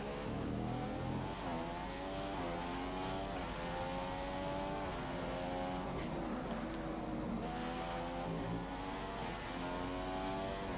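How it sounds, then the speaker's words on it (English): A Formula 1 race car engine in the racing video game F1 2015 revs loudly and continuously, its pitch sweeping up and down through gear changes, with no other sounds. "Doesn't the engine sound weird?"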